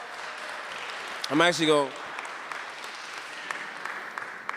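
Faint scattered applause at a people's assembly runs throughout at a distance, with a brief spoken phrase partway through.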